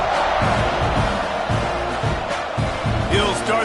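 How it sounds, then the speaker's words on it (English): A football stadium crowd at a Mississippi State vs Texas A&M game buzzes loudly and steadily after a touchdown, a dense wall of chatter and scattered shouts with a few rising cheers near the end. "this crowd is buzzing after that last score."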